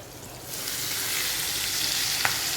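Spinach drops into a hot pan over a high gas flame, setting off a sudden loud, hissing sizzle that holds steady, with one small clink near the end.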